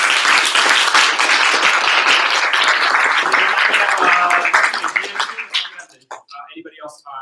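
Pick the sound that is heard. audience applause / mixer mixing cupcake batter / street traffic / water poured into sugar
audience applause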